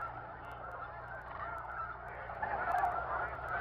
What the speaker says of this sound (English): It is an unforgettable experience to view wave after wave of cranes and geese flying in as the sun sets.